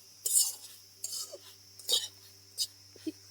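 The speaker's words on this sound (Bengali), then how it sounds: "এটাকে নেড়ে নেড়ে ভেজে নিতে হবে" Sesame seeds roasting in a pan over low heat are stirred in short strokes, producing five soft, dry scraping bursts with quiet gaps between them and a faint low hum beneath.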